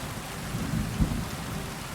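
Rainfall in the Kingdom Come: Deliverance 2 video game, a dense steady patter with a low rumble of thunder swelling near the middle, heard alone without voices.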